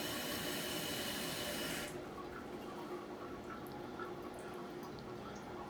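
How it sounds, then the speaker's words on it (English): Water steadily refilling a faulty toilet tank after a flush, a continuous close hiss of flowing water that drops to a quieter trickle partway through. "Periodically though, it does do the water flowing into the toilet thing there."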